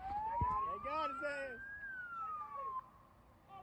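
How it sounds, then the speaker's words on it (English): Police siren wailing in a rising and falling sweep, played on a sports talk show with a voice talking over it and a sharp knock near the start. "when you play this many sirens, somebody's in their car right now on 410 looking around"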